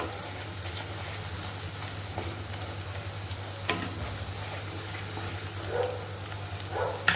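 Gravy being stirred and mixed in a pan with red chilli for a spicy buttermilk dhokli curry, giving a steady low sizzle with soft scraping strokes and a few brief clinks, close and alone.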